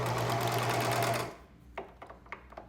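A sewing machine stitches fabric for paperless towels in a fast, steady motor whir that stops abruptly partway through, followed by a few faint clicks and handling sounds.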